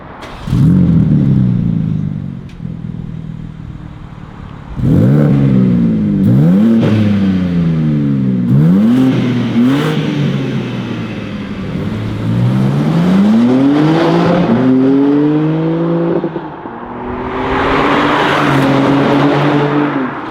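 A 503-horsepower big heavy estate car engine revs and accelerates loudly through repeated rising gear pulls, each climb ending in a shift, with a rougher roar near the end.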